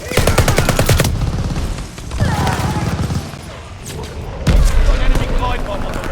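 Mortar barrage explosions in Mass Effect Legendary Edition multiplayer, heavy booming blasts and crashing impacts mixed with rattling gunfire, loud and close, coming in waves with a game announcer voice over parts.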